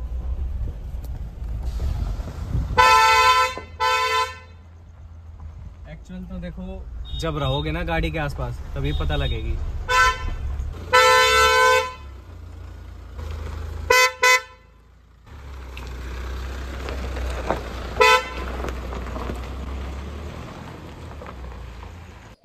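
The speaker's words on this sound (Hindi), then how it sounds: "और अब आवाज सुनो, थोड़ा मैं बाहर से सुनाऊंगा।" Hyundai Creta horns fitted on a Mahindra Thar Roxx, heard from outside the vehicle, blare in several short, loud honks and longer blasts. Someone talks between the honks over a steady rain-like hiss.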